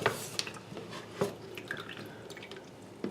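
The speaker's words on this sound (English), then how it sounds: "I'm going to squeeze out as much of the water as I possibly can" Steeped tea bags being squeezed out by hand while making homemade sweet tea concentrate, with scattered drips and small splashes of water falling irregularly, fairly quiet and close, with no talking.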